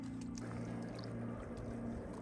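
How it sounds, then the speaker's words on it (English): Water spills over the dam spillway at Lake Siskiyou, a faint, steady rushing and trickling wash heard from a distance with no voices. "We got water going over the spillway."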